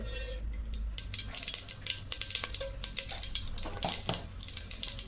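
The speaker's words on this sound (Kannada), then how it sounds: "ಒಂದು 2-3 ಸ್ಪೂನಷ್ಟು ಎಣ್ಣೆ, ಅದು ಚೆನ್ನಾಗಿ ಬಿಸಿ ಆಗಲಿ. ಈಗ 1 ಸ್ಪೂನು ಸಾಸಿವೆ" Mustard seeds drop into hot oil for a sambar tempering, giving a loud, dense crackle and spattering that bursts irregularly over a steady hiss of frying, heard close and without talk.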